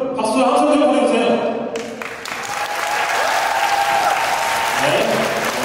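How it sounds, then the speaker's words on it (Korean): Wedding guests in a hotel grand ballroom break into sustained, loud applause for the groom's entrance. The applause follows a host speaking over a microphone. "멋진 만큼 박수 한 소절 보내주세요."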